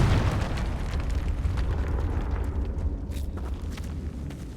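In Hogwarts Legacy, the Confringo fire spell explodes inside a tomb during a trial. A loud, deep, rumbling blast starts at once and lingers as a sustained roar that slowly fades over several seconds.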